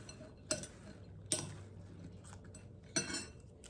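Crockpot BBQ meat being chopped smaller with a metal utensil: three sharp, isolated clinks spaced about a second apart over a quiet background.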